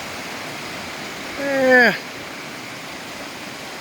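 Steady, broadband rushing of a waterfall on the Murhut Falls Trail near Hoodsport, Washington, on the eastern Olympic Peninsula, continuous and fairly close throughout. A brief spoken word rises briefly above the roar.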